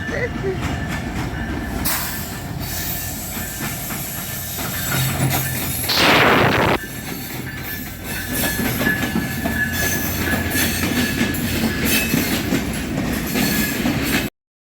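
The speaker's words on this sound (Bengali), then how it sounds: "ভালো মুহূর্তে ট্রেন আসছে" A train rumbles past with rattling wheels and a sharp squealing screech midway, heard up close with some voices underneath.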